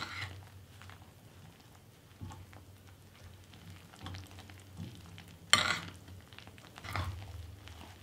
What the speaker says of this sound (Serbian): i sve ću promešati sa kašikom.